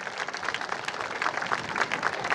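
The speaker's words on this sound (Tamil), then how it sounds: "உங்களுடைய பலத்த கரகோஷம்." Audience applause at a school sports olympiad, a steady, fairly distant wash of many hands clapping with no pauses, heard alone and moderately faint.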